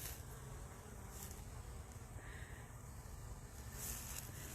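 Honey bees and drones inside a hive produce a faint, continuous buzzing hum, with a slightly louder pitch swell partway through.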